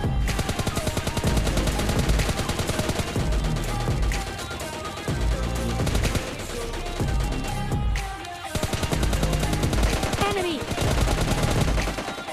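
Rapid bursts of automatic gunfire in PUBG Lite rattle almost continuously, loud and dense, with brief gaps, game audio with heavy bass thumps underneath.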